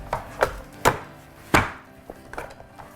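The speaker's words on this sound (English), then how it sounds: "just give them a nice, good, healthy chop, and they're just gonna chop right up for you" Onions chopped with a knife on a cutting board, irregular sharp taps of varying loudness, close and without voices.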